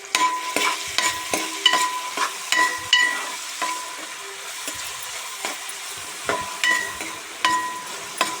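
Onions and green chillies frying in a pan give a continuous sizzle broken by repeated sharp clinks and scrapes of a spoon stirring against the metal, close by and with no voices.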